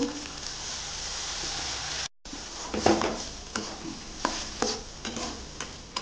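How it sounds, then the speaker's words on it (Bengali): Gobindobhog rice is stirred and fried in hot butter in a pan, giving a soft continuous sizzle broken by a brief dropout and sharp scraping knocks of the spoon. "চালটা একটু ভেজে নেবো।"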